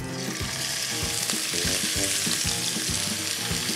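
Pork sizzles loudly in hot oil, a constant crackling fry with a rhythmic scraping of stirring running through it.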